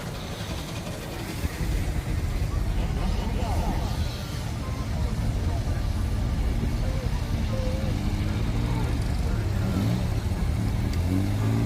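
A small vintage motor car runs past at the Driffield steam fair, its engine a steady, close drone that swells slightly as it goes by, with crowd chatter murmuring underneath.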